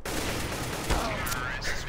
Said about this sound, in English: I shot the grenade out of the air.